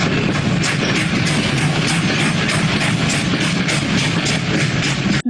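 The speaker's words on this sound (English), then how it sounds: "That's the sound of a moving train." A steady, dense rumble of a moving train fills the clip, with a rhythmic clatter of wheels over rail joints repeating throughout.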